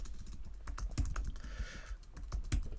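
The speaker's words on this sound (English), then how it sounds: "So I'm going to type a password." Fingers type a password on a computer keyboard in a quick, uneven patter of close key clicks, with a few heavier presses, and no talking.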